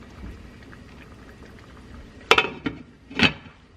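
Rice for Mexican sopa de arroz bubbles gently in a pot with a soft low simmer, then two sharp clinks of a utensil or lid ring out close by, with no voices.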